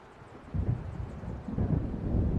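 Deep thunder rolls in from an approaching storm on a dark coast in the game Alan Wake, two low rumbling swells building and lingering, heavy and close with no other sound over them.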